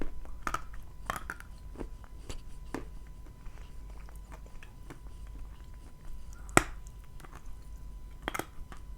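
Someone chewing crunchy dried food, a series of sharp, close crunches and bites spaced irregularly over quiet background, with no talk.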